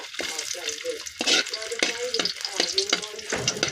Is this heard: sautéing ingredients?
yes